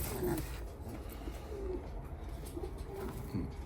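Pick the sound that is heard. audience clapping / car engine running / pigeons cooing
pigeons cooing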